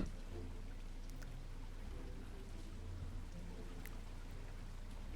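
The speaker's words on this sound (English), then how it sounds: "Oh no, it's raining." Steady rain patters on surfaces in a VRChat game world, a soft, even, continuous wash of drops with no voices.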